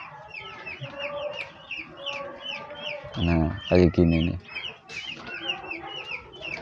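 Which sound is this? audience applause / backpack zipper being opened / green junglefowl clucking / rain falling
green junglefowl clucking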